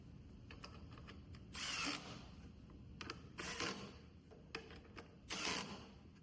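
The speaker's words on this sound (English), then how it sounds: "Now, I'm using torque setting 4 on this drill." A power drill on torque setting 4 whirs in several short bursts as it drives screws installing a seat on a mobile folding table, with quiet clicks and handling noises between runs, close by.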